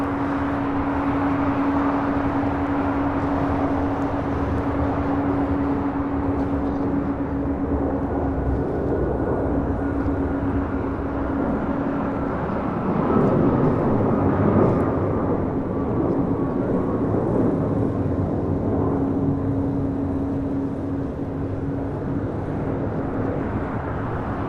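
A United Airlines Boeing 737 MAX departing LAX on runway 25 right for Houston produces a broad, steady jet roar with a sustained tonal hum, swelling slightly midway, heard from a distance without talk.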